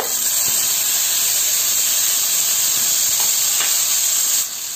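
Tomatoes sizzle in a pan with garlic over medium heat for a chutney, a steady, close frying hiss that holds evenly throughout and eases slightly at the very end.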